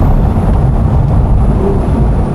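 Porsche 911 Club Coupe with a 3.8 liter M97 flat-six and sport exhaust in sport mode, a steady loud engine drone and road rumble heard from inside the cabin while driving.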